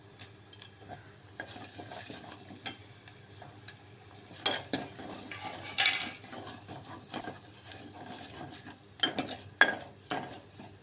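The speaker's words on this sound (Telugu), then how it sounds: "పోపు అయిపోయిందండి పోపు వేసేసుకుందాము" Spices and dried red chillies crackle and sizzle in hot oil in a pan, tempering for buttermilk curry, with intermittent louder pops and stirring clatter close by, no voices.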